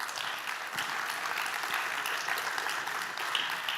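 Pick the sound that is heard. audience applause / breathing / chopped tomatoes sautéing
audience applause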